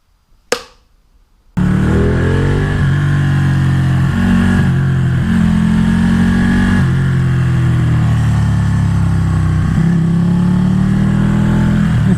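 A motorcycle on a winding mountain road: after a brief sharp knock and a moment of quiet, a loud, close engine drone starts and holds steady with slight rises and dips in revs, no voices.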